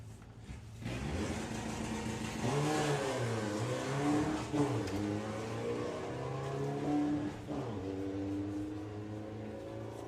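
Two VW drag racing cars launch off the start line at Santa Pod during a Bug Jam qualifier, engines rising in a loud, sustained revving roar that climbs and shifts in pitch over about ten seconds.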